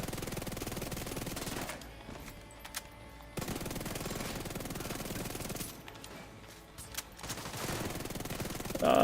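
Bursts of automatic gunfire in The Division 2, loud rapid volleys broken by two short quieter pauses, firing near and continuously across most of the stretch.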